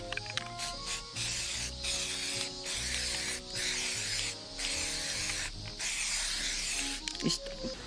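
Short bursts of aerosol spray apply waterproof primer undercoat to a 1982 Mitsuoka BUBU501 three-wheeled car under restoration, each hiss lasting about a second with brief pauses between, close and fairly loud, with a faint rattle of the can.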